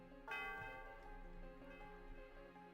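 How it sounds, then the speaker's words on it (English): A bell rings once in the Pokemon Black video game, a bright struck chime with a rich sustained tone that rings out and slowly decays over a few seconds, with no talking. "The sound of the bell reverberates through the area."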